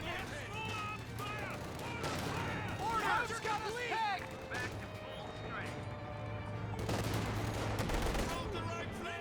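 Company of Heroes 2 battle sounds rattle on without pause: bursts of gunfire and muffled mortar impacts with crashes, all under a caster's continuous talk.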